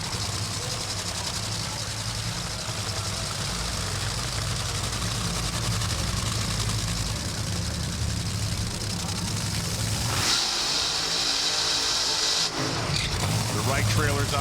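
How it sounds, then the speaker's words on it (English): A top fuel dragster at the Gatornationals drag race rolls into the water box, its engine a heavy, continuous rumble under a commentator's voice, with a rising burst of louder engine noise near the end. "Brittany Force brings her car into the water box against Tony Stewart."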